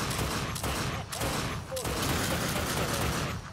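Sustained gunfire in the video game The Darkness II, dense and continuous with brief gaps, firing until the ammunition runs out, loud and close.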